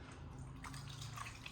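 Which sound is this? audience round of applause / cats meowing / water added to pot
water added to pot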